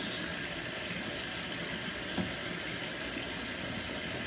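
Water runs steadily from a bathroom tap into a sink during a face wash, a constant close hiss with no voices.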